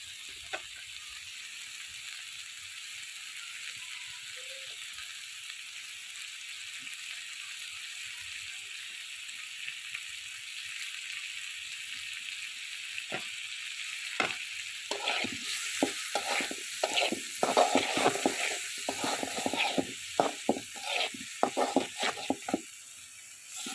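Canal shrimp fry in a spice masala, with a quiet steady hiss that gives way to bursts of scraping and stirring as the pan is worked, growing louder and more rhythmic toward the end.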